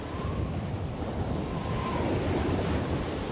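Ocean surf washes in a continuous low roar, with wind buffeting the microphone and no voices.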